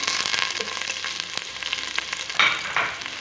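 Onions dropped into hot oil while cooking dhaba-style bhuna gosht, a bright continuous sizzle with crackles and stirring scrapes, close and loud, with no talking over it.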